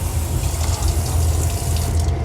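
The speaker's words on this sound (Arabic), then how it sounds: "وهنا عندنا الحوض اللي انتم شايفينه دوت اللي الميه فيه طبعا بسنسور" Water runs steadily from a sensor faucet into the sink of a high-speed train toilet, a loud continuous close-up gush with no talking.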